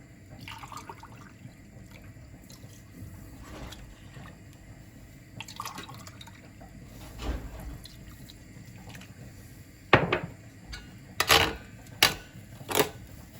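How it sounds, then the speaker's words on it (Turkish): Warm water is poured into içli köfte dough, heard as soft trickling and splashing with intermittent drips and louder bursts of pouring toward the end. "Ben ılık su ekliyorum."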